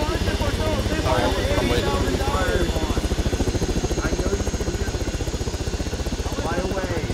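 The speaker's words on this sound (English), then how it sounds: "Stop shooting at the chopper." Helicopter in a combat video game, its rotor chop thudding in a fast, steady rhythm close up and loud throughout, with voices talking over it.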